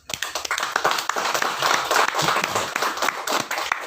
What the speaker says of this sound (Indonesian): Coba kita kasih aplaus dulu.